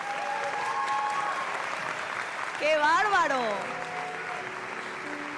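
Audience applause breaks out in a radio studio with a live audience, a steady wash of clapping throughout, with a speaker's voice and an excited exclamation rising over it midway.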